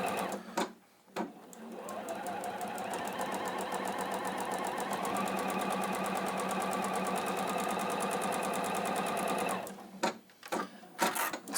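A sewing machine stitches quilt pieces in one long, steady, fast run of rapid mechanical clatter, with a few short taps before and after.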